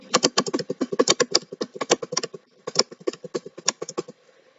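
Rapid clattering keystrokes typed in two bursts separated by a short pause, close and crisp, with no voices.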